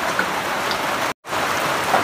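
Steady rain pours on a farm hut in Batangas with a dense, even hiss of drops on the roof, broken only by a brief dropout.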